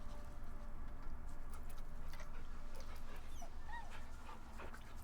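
A dog being petted in the video game Baldur's Gate 3 gives soft whimpers and faint snuffling over quiet game ambience with a few light bird chirps.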